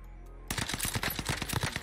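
Rapid gunfire in a competitive 2v2 video game tournament, starting abruptly after a quiet moment and continuing as a dense, close burst of shots to the end.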